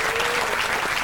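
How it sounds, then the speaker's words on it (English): Dense, even applause from a studio audience on a GAA programme, honouring Tyrone footballer Conor Gormley, fills the brief moment at full volume with no break. "I think maybe he deserves a round of applause."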